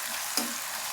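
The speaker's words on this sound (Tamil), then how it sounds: "பிரண்டை போட்டு நல்லா வதங்கி வருதுங்க." Adamant creeper (pirandai) sizzles steadily in groundnut oil in a kadai with chana dal and dried red chillies, a close, even frying hiss with one brief clink of stirring.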